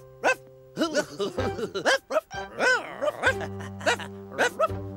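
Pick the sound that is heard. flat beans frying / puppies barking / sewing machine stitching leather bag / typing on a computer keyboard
puppies barking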